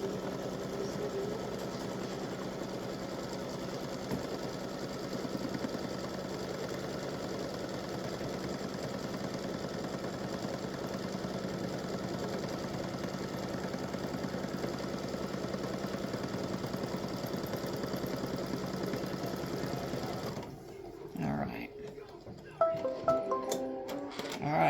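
A sewing machine runs steadily while tacking down a single piece of fabric for a bless panel, making a continuous mechanical whir for about twenty seconds before stopping, followed by a few scattered handling clicks.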